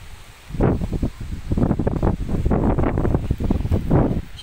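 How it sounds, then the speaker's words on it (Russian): Dry, gusty wind blows across an outdoor vegetable garden, buffeting the microphone in uneven low rumbling surges that rise and fall throughout. "потому что ветер такой сухой, дождя нет"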